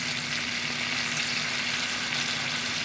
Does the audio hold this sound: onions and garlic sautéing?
yes